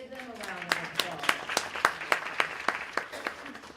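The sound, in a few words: audience applause for faculty at a lecture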